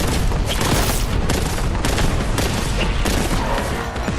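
Rapid, loud bursts of gunfire from the Warhammer 40,000: Boltgun shooter on PS5, a steady close fusillade of repeated heavy shots with booming impacts, running continuously with no voices over it.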